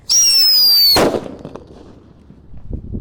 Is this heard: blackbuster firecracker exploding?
yes